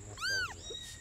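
A rescue kitten gives a single clear, rising-and-falling meow close up, followed by a fainter short chirp, with no talking.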